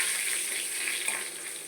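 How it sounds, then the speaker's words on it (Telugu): Spices, dried red chillies and curry leaves crackle and sizzle steadily in hot oil while tempering for a tamarind rasam, a close, continuous frying hiss with no voices. "పోపు దినుసులు వేసేసుకుందాం"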